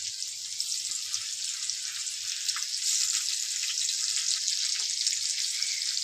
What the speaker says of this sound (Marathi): थोडंसं राई जिरे टाकलं, कांदा टाकून घेऊया आपण।